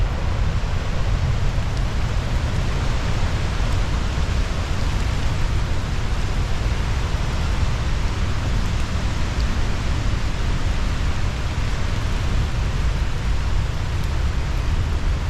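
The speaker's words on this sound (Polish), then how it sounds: "pada deszcz, taka mrzawka jest kropi z liści cały czas" Steady drizzle dripping from leaves in the rainforest at Victoria Falls, a dense, even hiss of drops that stays loud and constant with no pauses.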